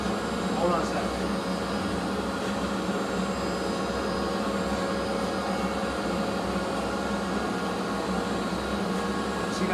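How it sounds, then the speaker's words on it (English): A CNC machine in a woodworking shop cuts clamp cauls, producing a steady, unbroken mechanical whir and drone at moderate loudness throughout. "over there on the CNC, I'm making some clamp cauls"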